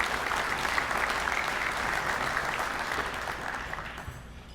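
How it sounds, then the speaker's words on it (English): Audience at the Rhode Island Hockey Hall of Fame induction ceremony applauding, a dense, even wash of clapping from a sizable crowd that holds steady and then thins slightly near the end. "another round of applause and well wishes, please, for Larry, Ann Reed, and the Chase family."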